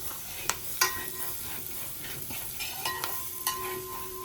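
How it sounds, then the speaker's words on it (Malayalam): Ginger, garlic and green chilies fry in hot oil for chilli chicken, a soft continuous sizzle broken by sharp clicks and scrapes of a spoon against the pan. "ഓയിലൊക്കെ ചൂടായി. അതിലേക്ക് ഇഞ്ചി വെളുത്തുള്ളി പച്ചമുളക് ഇട്ട് കൊടുത്തു."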